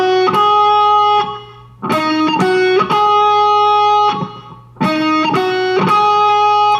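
Electric guitar lick from a song, played in repeating groups of ringing notes separated by brief pauses, close and loud, with no talking.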